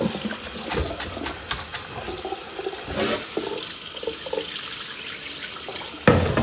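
Mint leaves being rinsed under a running kitchen tap, a steady close splashing stream of water with small clinks and bursts of louder spatter.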